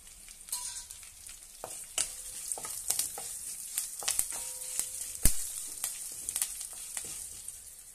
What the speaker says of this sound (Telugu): ఇవన్నీ కొంచెం బ్రౌన్ కలర్ వచ్చే వరకు వేయించుకుందాం